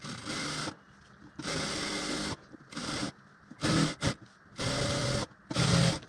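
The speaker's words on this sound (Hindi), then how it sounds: "उसके बाद इसमें डबल सिलाई लगा दीजिए।" A sewing machine double-stitches a bra strap in bursts of rapid mechanical running, about six separate runs with short pauses between them, loud and close with no talking.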